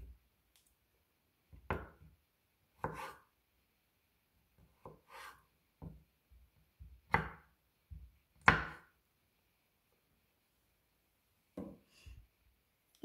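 A knife chopping onion very finely on a board, soft isolated cuts in small irregular clusters, quiet and close with silence between strokes.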